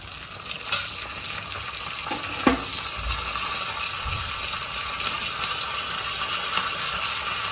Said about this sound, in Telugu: తాలింపు వేగిపోయిందండి.